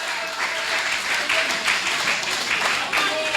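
An audience applauds steadily in a hall for Sean Richards at a constituency event about a Keon High School repair, a dense wash of clapping that runs throughout with a faint voice underneath.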